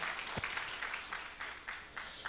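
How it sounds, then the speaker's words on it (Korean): Applause welcoming newcomers during a church service, a congregation clapping in a steady patter with a soft single thump early on, moderately distant and without voices over it. "우리 뜨겁게 박수로 환영하도록 하겠습니다"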